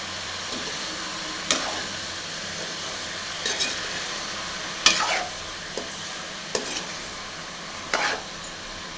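Ridge gourd sautés in a pan under a constant hissing sizzle, with a spoon stirring at intervals and making a handful of distinct metallic scrapes and taps; no talking.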